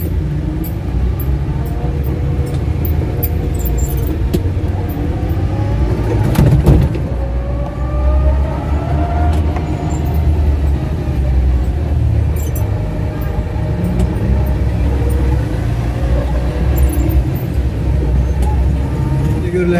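Steady road traffic noise while riding in a Regal Raptor K5 Long electric vehicle, a continuous low rumble with passing vehicles swelling briefly, heard under someone talking.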